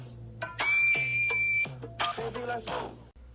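A person whistles a sustained high tone, then a few shorter wavering whistled notes, close by with some background noise.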